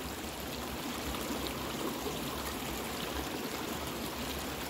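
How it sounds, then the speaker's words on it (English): Tap water runs steadily into a sink for rinsing a razor during a wet shave, a soft, even rushing stream with no pauses. "I use this for rinsing my razor off in between"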